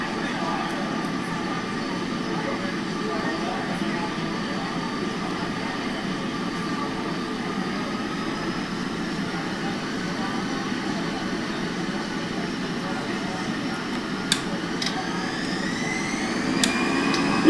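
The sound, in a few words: EasyJet airliner jet engines at takeoff thrust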